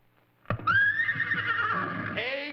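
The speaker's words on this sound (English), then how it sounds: "I'm going to send out the horse noises" A horse neigh sound effect from a 1953 children's TV show: one loud, drawn-out whinny that rises and then wavers for about two seconds, heard alone with no talk over it.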